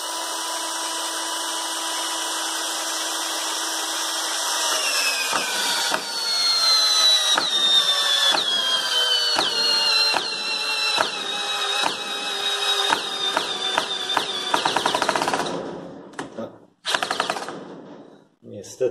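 A WUBER WR-CD-19N 12V cordless drill driving screws, a steady high motor whine that rises, then rapid ratcheting clicks as the bit slips, close and loud before stopping abruptly.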